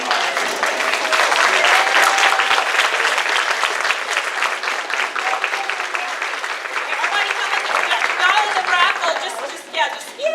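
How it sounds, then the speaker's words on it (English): A large audience at a fall kick-off event applauds steadily and loudly for the full stretch, dense clapping with some crowd noise and faint voices mixed in, tapering slightly near the end. "I'm going to ask that you all stand up and give her a round of applause"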